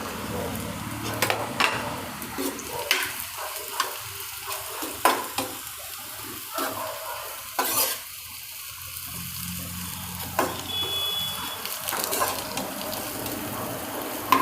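Pieces of thepla fry in a pan with a steady low sizzle while they are stirred. Scrapes and clinks from the spoon sound at irregular moments, and the sound is close and fairly quiet.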